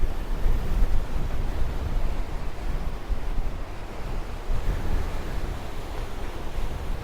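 Strong wind buffets the microphone atop Hadsar hill fort, a loud, continuous roaring gust with rumbling low-end noise and no voices.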